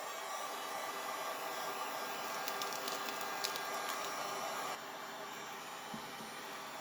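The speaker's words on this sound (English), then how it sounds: "So I just start with gently using the heat gun." A heat gun blows steadily as it shrinks plastic packaging around a soap bar, a continuous airy whir that drops slightly in level near the end.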